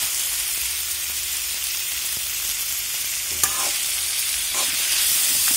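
Bamboo shoots for adobo stirred in a hot frying pan, a steady bright sizzle running throughout with a few louder scraping knocks of the utensil against the pan.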